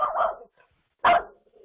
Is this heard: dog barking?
yes